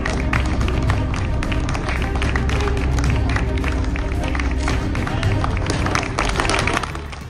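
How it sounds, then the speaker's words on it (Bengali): A crowd of Turkish people clapping for an Indian medical team at a road or airport, a dense, steady wall of applause with scattered sharp claps and crowd noise that fades slightly at the end. "সব জায়গায় তুর্কির মানুষজন হাততালি দিয়ে ভারতকে ধন্যবাদ জানায়"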